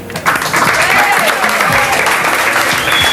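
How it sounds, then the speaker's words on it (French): A studio audience claps in a dense, steady round of applause. It is loud and continuous, with some voices underneath, on a French television talk show. "Bon, on l'applaudit quand même."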